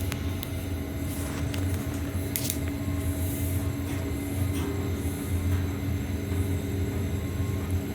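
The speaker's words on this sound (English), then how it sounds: "And you can hear some of that steam." Steam hissing from a steam heating coil in a building heating system, a steady broadband hiss with a constant low mechanical rumble underneath and a few brief squeaks, fairly loud and close throughout.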